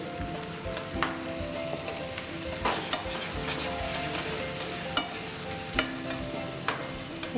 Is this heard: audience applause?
no